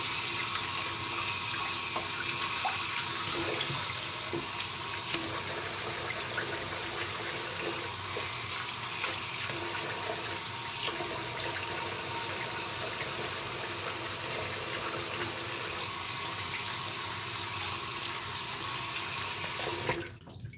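Tap water runs steadily into a sink while a straight razor is rinsed, a continuous close splashing stream for about twenty seconds before shutting off.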